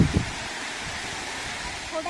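Rahas Waterfall at Soro, Baleswar, a picnic spot, gives a steady broadband rush of falling water that holds level throughout, with a brief low thump near the start.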